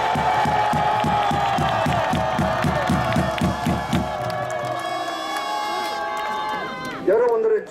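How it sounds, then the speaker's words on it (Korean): A political rally crowd shouting and cheering together on cue, a loud sustained roar of many voices with rhythmic chanting pulses in the first half that fades toward the end. "그럼 함성으로 한번 내보세요"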